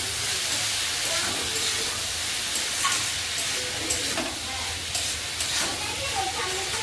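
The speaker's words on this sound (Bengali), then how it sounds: "মোচাটা দিয়ে আর একটু ভালো করে কষিয়ে নেব।" Banana flower being fried and stirred in a pan, a steady loud sizzle and hiss with scraping stirring strokes throughout, close to the microphone.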